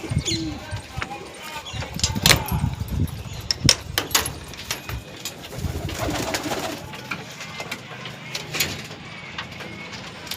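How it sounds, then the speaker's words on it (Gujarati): Pigeons coo on a rooftop as they are let out of their coop, with soft repeated cooing, wing flutters and bumps close by, and voices murmuring now and then in the background. "અગાસી ઉપર આવી ગયા છે ચાલો કબૂતર ખોલીએ પહેલાં"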